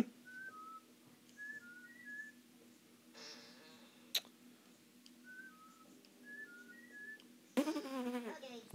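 Whistling from the video game Abe's Oddysee: short high whistled notes in small repeated phrases over a steady game hum, with a sharp click midway and a louder burst of noise near the end.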